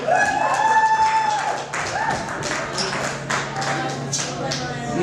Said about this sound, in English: Big round of applause for Connor Hansleben